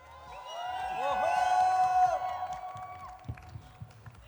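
A crowd at a launch event hoots and whoops together, swelling for a couple of seconds before trailing off into scattered claps and thumps.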